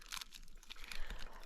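Food being eaten outdoors on a hiking trail in the morning: close, crisp crunching and chewing bites in a quick irregular series, fairly quiet, with no talk.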